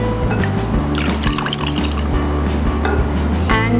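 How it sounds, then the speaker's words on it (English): Milk streams into cake batter in a steady, continuous pour lasting a few seconds, close and fairly loud, with no talking over it. "add half a cup of milk"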